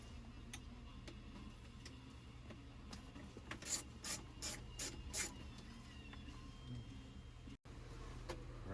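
A hand ratchet clicks in a short quick burst while tightening bolts on a 2007 Chevrolet Avalanche, faint and close among quiet shop noise and scattered small taps.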